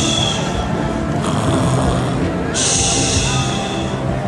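A storyteller's voice imitates a man snoring, giving drawn-out, raspy rumbling snores close up, delivered loudly in a live storytelling setting.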